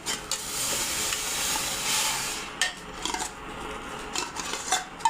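Raw cream (malai) hits a hot kadhai to be cooked down into homemade desi ghee, giving a steady, close hiss of sizzling that later breaks into scraping and clinking of a utensil stirring in the pan.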